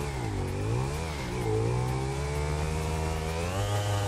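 Motorcycle engine in GTA 5 Online on Xbox 360 during a motorcycle parkour race, a continuous revving drone that rises and dips in pitch across the clip, steady and fairly loud.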